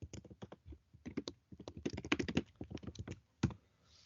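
Quick, uneven keystrokes clatter on a computer keyboard as notes are typed in bursts with short pauses, close and fairly soft, with no voices.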